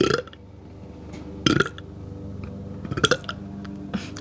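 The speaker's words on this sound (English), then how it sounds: "Quietest burp." A few quiet burps sound close by, short low gurgling bursts spaced over a few seconds against near silence.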